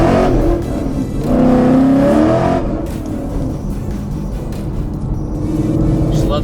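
A tuned 2014 Ford Mustang GT Track Pack V8 revs on a dyno, loud and close, rising then falling with gear changes and a continuous engine drone.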